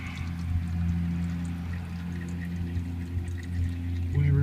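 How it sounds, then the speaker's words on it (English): Used engine oil pouring out of a removed oil filter during a Toyota Matrix oil change, a steady liquid stream running under a low background hum, with a louder burst near the end. "You can see there he's pouring it out."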